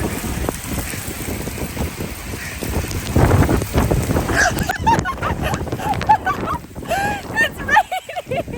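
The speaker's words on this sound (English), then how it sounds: "It's raining!" Rain falls steadily outdoors at a muddy site where a vehicle is stuck, with a dense patter that turns sparser and more broken toward the end, and occasional sounds nearby.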